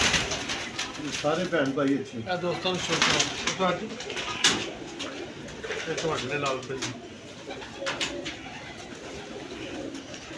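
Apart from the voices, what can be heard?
pigeons cooing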